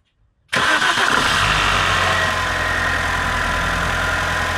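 A car engine on a bad cold start catches abruptly after a brief silence and runs loud and rough right up close, settling into a steady strained idle.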